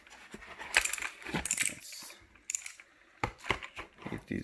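Clicky mechanical switches on a Redragon K583 IDA mini gaming keypad with macro keys, sounding as bursts of sharp, close plastic clicks in uneven rhythm, several quick strikes clustered together with brief pauses between.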